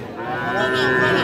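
A young Friesian or crossbred heifer calf at a rural cattle market lets out one long, loud, close moo that holds steady for over a second.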